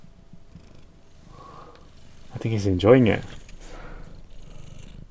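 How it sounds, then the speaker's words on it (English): A cat purring contentedly in an off-grid camper van in autumn: a low, steady rumble that continues throughout, with someone talking briefly over it partway through. "Look at that. He's purring."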